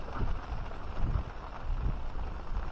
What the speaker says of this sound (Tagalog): Ayan, lakas ng hangin doon, oh.